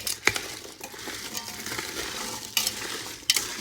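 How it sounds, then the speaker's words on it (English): A spoon stirs cranberry sauce with sugar and juice inside an Instant Pot, making soft scraping strokes punctuated by a few sharp knocks against the pot's metal insert. "Gonna give it a good stir."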